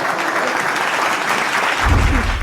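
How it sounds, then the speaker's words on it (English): Audience applause at the NDTV Indian of the Year 2025 awards ceremony for honoree Professor Madhvi Lata, a dense, steady wash of clapping from a large crowd, with a low rumble swelling near the end. "Huge round of applause for Professor Madhvi Lata."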